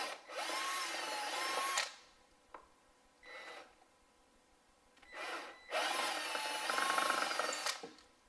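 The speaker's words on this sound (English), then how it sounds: "So if I take a drill and run a" Power drill boring a hole into brick or concrete, two loud sustained bursts of whining grinding separated by a quieter pause with a brief spin-up, close and with no voices.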